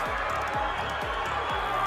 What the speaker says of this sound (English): The crowd going absolutely crazy.